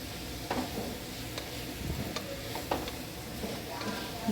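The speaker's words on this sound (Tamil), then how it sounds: "நல்லா புதினாவையும் கொத்தமல்லியும் நல்லா வதக்கிக்கணுங்க" Mint and coriander leaves sautéing in a pressure cooker for a vegetable biryani, a soft steady sizzle broken by a few light scrapes and taps of a spoon against the pot.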